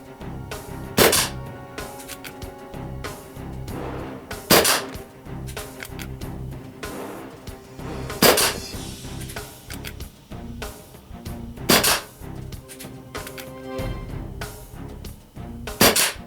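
Shots from a Colt SAA Peacemaker CO2 air revolver, five sharp cracks spaced roughly three to four seconds apart over steady background noise, close and loud, with no talk.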